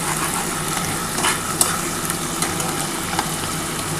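Chopped onion sizzles in hot oil with whole cumin and cardamom pods, a steady close frying hiss broken by a few stirring clicks and spatters, no voices.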